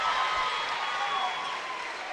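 A crowd at a Grayson County Lady Cougars basketball game against Butler County cheers and claps in a gym, a steady wash of applause and voices that slowly fades over two seconds.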